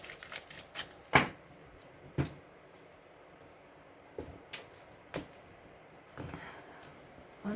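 A deck of Médéor oracle cards being shuffled by hand in a quiet room, with a handful of crisp riffling bursts and soft slaps spaced across the moment, close and fairly quiet.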